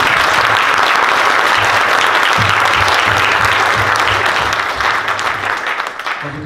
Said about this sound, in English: Another round of applause, please, for Dr. Rosen.